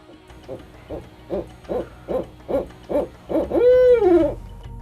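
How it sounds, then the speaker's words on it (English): A barred owl hoots in a rapid stuttering run of about eight short, evenly spaced notes, ending in a longer drawn-out wavering call, close and clear with no talk. "out in the wild, barred owls will kind of go, who cooks for you? But she'll get stuck on the who."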